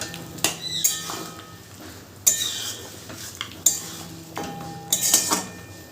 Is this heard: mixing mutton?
yes